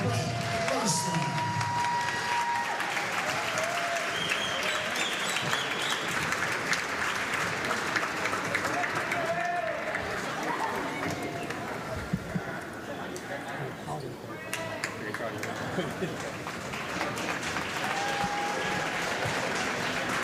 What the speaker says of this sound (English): Fans, another round of applause for Brett Ursuline.